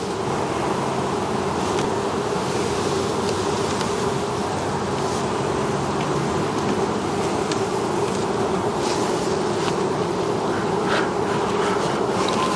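Honeybees swarm around an open hive, a dense continuous buzzing drone that stays steady and close throughout, with no talk over it.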